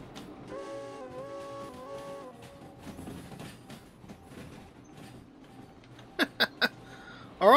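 Train sounds from the Derail Valley game: a rumbling engine with tonal whistle-like hums early on, then a series of sharp metallic clanks as cars couple, ending in a loud burst of hissing steam.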